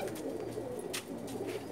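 A Shikra breed pigeon coos steadily and close, a low continuous murmur with faint higher bursts, no talk over it.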